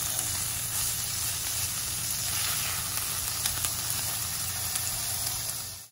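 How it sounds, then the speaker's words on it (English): Homemade burger patties sizzle steadily in a pan, a continuous, fairly loud frying hiss with faint crackles and no voices. "I'm gonna let the burgers cook for a little bit"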